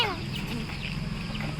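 Chicks and hens in a backyard give rapid high peeping calls over a steady low background, close by, with a voice briefly heard among them.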